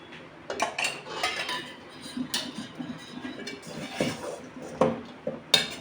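Jaggery syrup being poured over puttu and stirred in a metal vessel, with repeated clattering scrapes and knocks of a spoon against the pot, close and uneven.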